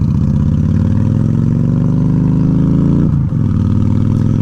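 A Honda Shadow ACE 750 motorcycle with a freshly fixed carburetor rumbles loud and close while riding, its engine note steadily rising under acceleration before a brief dip and recovery as it shifts.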